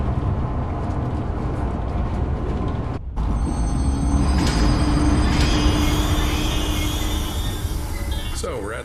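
Train ride in the video game Zoochosis, a steady rumbling rail clatter that briefly drops out, then returns with faint squeals and tonal whines while a voice talks over it.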